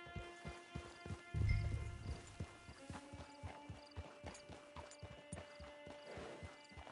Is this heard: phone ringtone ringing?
no